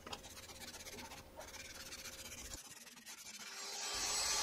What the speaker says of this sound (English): then hit it with a little sandpaper to clean it